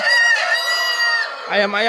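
A Garuda breed chicken crows loudly and close, a long drawn-out call followed by a shorter rising note, with no other sounds.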